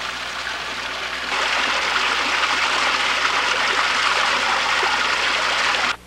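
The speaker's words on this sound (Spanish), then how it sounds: "Hay muchas quebraditas que transitan, pues, que corre el agua pura" A small mountain stream of clear water flows past crop fields, a steady close rushing and trickling hiss that swells slightly after a second and holds alone until it cuts off.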